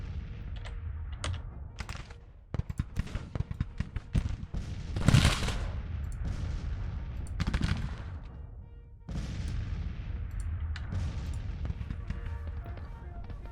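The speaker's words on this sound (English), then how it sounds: "We are bombarding them on their approach." Artillery salvos in the Civil War strategy game Grand Tactician, scattered booms and sharp reports over a low rumbling battle bed, one heavier blast standing out midway, moderately loud.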